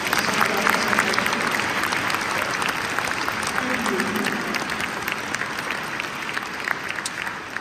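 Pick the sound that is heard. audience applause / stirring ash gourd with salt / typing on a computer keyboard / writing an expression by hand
audience applause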